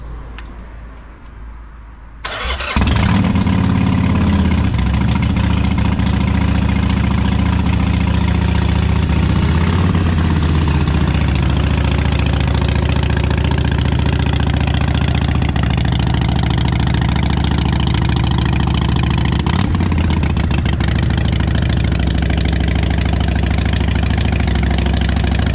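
Harley-Davidson motorcycle fitted with Vance and Hines Short Shots exhaust starts up and then idles loudly and close by, a steady deep lumpy rumble that runs without a break for over twenty seconds.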